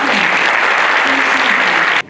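At a concert of Turkish music, an audience bursts into loud, dense applause for a musician. The clapping is steady and close, and fainter voices sit beneath it before it cuts off sharply at the end.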